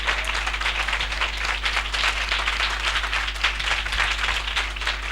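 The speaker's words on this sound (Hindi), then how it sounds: "हम जोरदार तालियों से उनका स्वागत करें," Loud, sustained applause from a large congregation at a Hindi Christian worship gathering, dense continuous clapping filling the whole stretch without a break.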